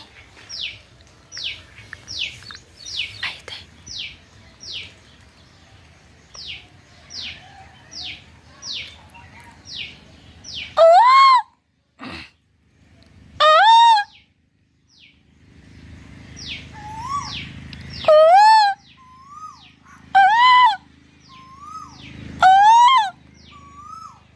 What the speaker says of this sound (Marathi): कोकिळ आलेला आहे